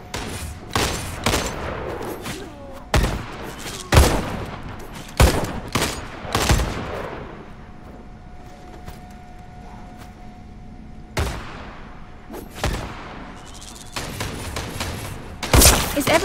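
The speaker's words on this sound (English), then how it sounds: "Is that gunfire" Loud bursts of video game gunfire crack out in rapid clusters in a zombie shooter, several volleys separated by brief quieter gaps, with sharp echoing impacts.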